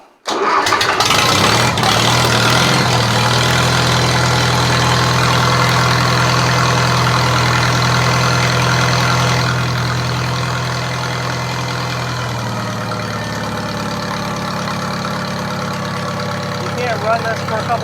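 An IH Farmall 140 tractor fires up cold with the choke on and settles into a loud, steady rumbling idle close by, the engine note easing slightly as it runs on.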